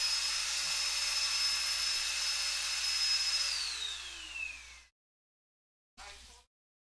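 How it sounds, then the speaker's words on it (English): A vacuum cleaner runs in the background indoors with a steady high whine that drops in pitch as it winds down and cuts off, followed by a brief burst of it starting again. "I apologize that for the vacuum there"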